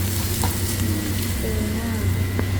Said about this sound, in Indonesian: Ya, kita terusin masak tunanya.